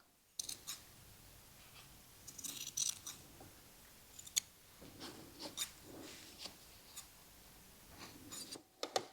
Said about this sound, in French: on va revenir couper dans la marge de couture